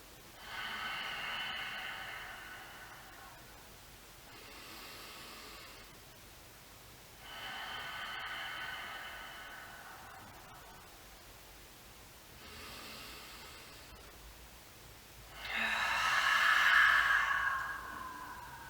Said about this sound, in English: really practicing that ujjayi breath. So closing down the back, restricting the back of our throat so we can hear our breaths